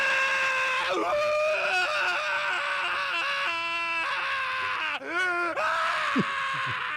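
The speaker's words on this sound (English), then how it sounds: "You got a variety of screams there." A recording of various people screaming plays as a string of high wailing shrieks and sobbing cries, rising and falling with pitch bends, one voice after another, loud and continuous.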